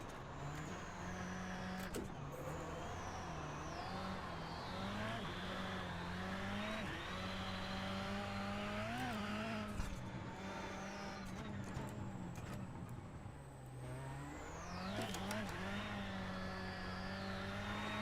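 Rallycross race car in iRacing lapping Daytona, engine revving steadily throughout with rising and falling pitch through gear shifts and throttle modulation, a few tire squeals and brief lifts, loud and continuous with no talk.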